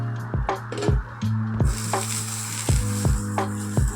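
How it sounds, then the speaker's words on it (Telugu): Half an onion dipped in oil rubbed across a hot dosa pan, a continuous sizzle under repeated rhythmic scraping strokes and soft knocks against the metal surface, close and clear with no talking. "కొంచెం ఉల్లిగడ్డతోనే మనం ఫస్ట్ పెంకనంతా రాసేసుకోవాలి. ఆయిల్ పెట్టి మొత్తం దాన్ని అంతా కొంచెం మంచిగా రాసేసుకోవాలి"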